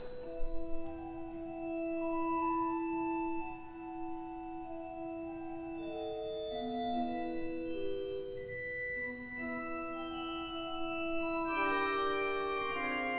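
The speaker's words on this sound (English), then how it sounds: "This is the highest note on the organ, which is possibly above the frequency that the camera can hear, but in combination with a lower stop" Pipe organ in the Singapore Esplanade concert hall sounding its highest flute-stop note together with a lower stop, giving a sustained layered chord of steady held tones that shift through several changes, with no talking.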